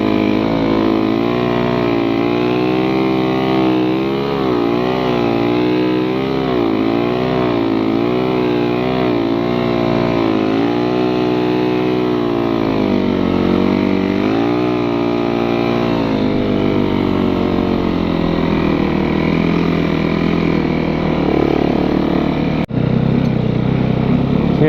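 A snow bike engine pulls hard while riding, droning loud and close without a break, its pitch rising and falling as the throttle changes.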